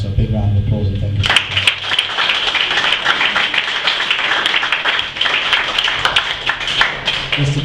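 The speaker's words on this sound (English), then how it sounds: "So a big round of applause and thank you." A room of guests at a boxing club opening gives a burst of applause that starts suddenly after someone speaks and continues as dense, steady clapping for several seconds.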